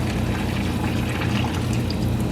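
Liquid pours steadily into a pot for chicken and dumplings with a soft trickling splash for a couple of seconds, close by, with no talking.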